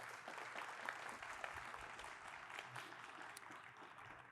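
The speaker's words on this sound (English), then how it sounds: "Please give them a round of applause." An audience at the reopening of Community Hospital in Long Beach gives a steady round of applause, with faint, dense clapping throughout.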